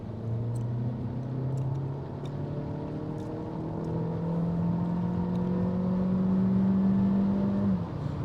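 A Jaecoo car with a DCT gearbox in sport mode accelerates hard from 50 to 120 km/h, its engine tone climbing steadily through a gear change and pulling strongly until easing off at the end, with no talk.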